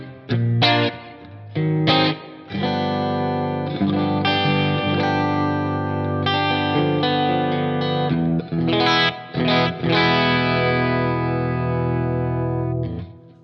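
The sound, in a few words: PRS SE Custom electric guitar, split bridge and neck humbucker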